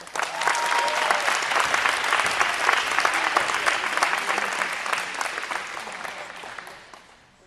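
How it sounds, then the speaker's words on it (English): Audience at a poetry recitation event giving a final round of applause, loud dense clapping that holds steady for several seconds before fading out at the end. "So one last round of applause for these guys."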